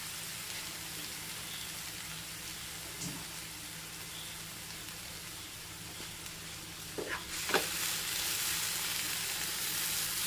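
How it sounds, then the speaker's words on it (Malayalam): Tomato paste sizzles quietly in a pan for masala curry, a soft steady hiss broken by a few stirring clinks before the frying grows louder and brighter near the end. "നല്ലപോലെ ഇളക്കി കൊടുക്കണം."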